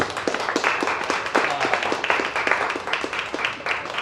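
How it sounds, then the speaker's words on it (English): An audience at a panel discussion on the future of creativity gives a round of applause in a café, with dense, steady clapping of many hands close by that holds for several seconds. "have a huge round of applause and thank you to Espresso Art Cafe for hosting us."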